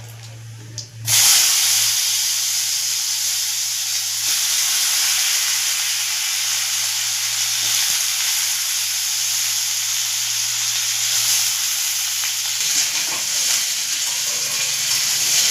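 Soaked, cut potatoes dropped into hot oil tempered with cumin and dried chillies, bursting into a loud sizzle that settles into a steady hiss of frying, close and continuous.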